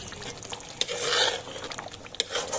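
A spoon scrapes and stirs degi korma in a hot pot, with soft sizzling under irregular scraping strokes and a couple of sharp clinks.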